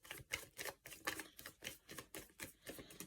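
Tarot cards shuffled gently by hand give a run of quick, crisp riffling bursts in a steady rhythm, close up and alone.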